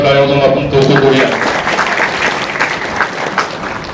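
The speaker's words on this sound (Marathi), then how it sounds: "जोरदार टाळ्या वाजवून आपण कौतुक करूया" An audience at a National Science Day speech breaks into loud, dense applause that swells at first then gradually thins, many hands clapping together close by.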